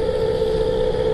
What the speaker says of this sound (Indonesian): suara berisik truk